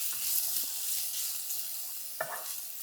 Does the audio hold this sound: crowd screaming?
no